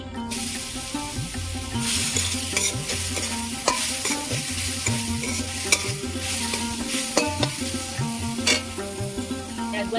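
Grated coconut stirred and frying in a hot kadai for bhapa puli pitha, a continuous close sizzle with repeated scraping stirs throughout.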